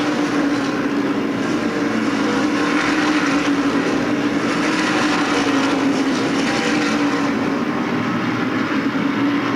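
Around two dozen NASCAR Modified Tour race cars roar down the back straight at Stafford Speedway, a dense, unbroken engine drone heard from a distance, steady and loud throughout.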